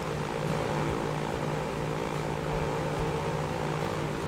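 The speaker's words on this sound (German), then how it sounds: "Neues Flugzeug. Doppelt so groß wie die alten." Propeller airplane flying in the train and transport building game Transport Fever 2, a steady loud droning engine hum with a constant tone throughout, close and without talk.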